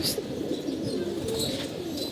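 Zamindar pigeons on a rooftop coo softly in a steady low murmur, with a few faint higher chirps and a light flutter, no voices.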